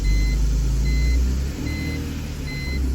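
A BMW E46 323ci, misfiring badly and with its oil light on, rumbles steadily at close range on jump power while a pair of high electronic chimes beeps at regular intervals over the engine.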